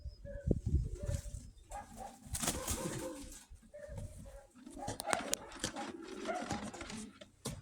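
A marble-coloured female pigeon of the Krymachka breed coos softly at close range, with low throaty murmurs, light rustling and occasional wing movement, and faint background noise throughout.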